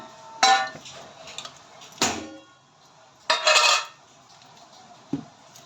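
Cooked coriander-gram flour filling for kothimbir vadi is scraped from a pot onto a plate, producing several loud, close metallic clanks and scrapes of a spoon against cookware separated by short pauses.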